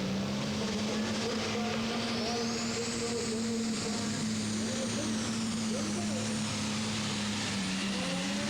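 A diesel super stock pulling tractor at an NTPA tractor pull, 1993, holds a steady, heavy roar down the pulling strip for the whole stretch, with a commentator talking over it.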